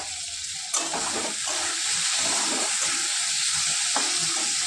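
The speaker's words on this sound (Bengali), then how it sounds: "এবার আমি ভেজে রাখা মাছগুলোকে দিয়ে দেবো।" Pre-fried puti fish dropped into a pan of spicy curry after the water has cooked off, a sudden burst and then a continuous loud hissing sizzle with faint stirring, no talk.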